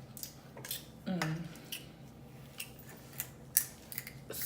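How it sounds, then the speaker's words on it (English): Scissors snip through a buttery seafood boil at a meal, a few sharp clicks and crunches amid faint clatter of dishes, quiet and close. "gotta use my scissors"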